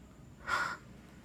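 A single short nasal sniff imitated by a voice, drawing air in through the nose, heard once as a brief close breathy burst in a quiet room during talk about a patient's symptoms.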